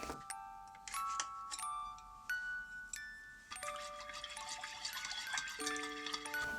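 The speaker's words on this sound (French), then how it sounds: "Dans un grand récipient, je mélange 290 ml d'eau claire" Clear water pours into a large mixing bowl, with splashing and rising ringing tones as the vessel fills, close and fairly quiet without any speech.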